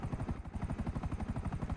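A helicopter in a video game roleplay server gives a steady, fast rhythmic chop of rotor blades. It is close and continuous throughout, with no voices over it.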